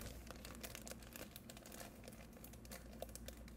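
A plastic bag is rustled and crinkled at home as foley to mimic a crackling log fire, giving dense, quiet crackles and sharp snaps that continue without a break and without voices.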